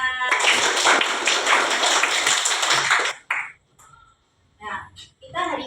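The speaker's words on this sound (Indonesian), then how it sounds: "Nah, beri tepuk tangan." Children in a sixth-grade classroom clap together in a dense, loud burst lasting about three seconds, then it breaks off into a few scattered claps and short bits of speech.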